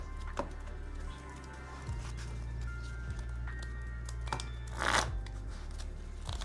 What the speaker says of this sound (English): Shuffle this up.